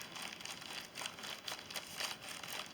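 A loaded paper bag envelope crinkles and rustles in quick, uneven bursts of papery crackle, close but fairly quiet.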